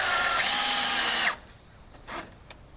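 A power drill drives a bolt into a compost bin part, a loud steady whine for over a second that stops abruptly, followed by a couple of quieter clicks and a short mechanical rattle.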